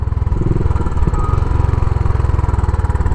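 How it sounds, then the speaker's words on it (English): A Royal Enfield Bullet Trials 500 single-cylinder motorcycle engine runs steadily and close, its low, even thump pulsing at a smooth rapid rhythm throughout with no voices. "this 500 single is actually the smoothest running of all of them"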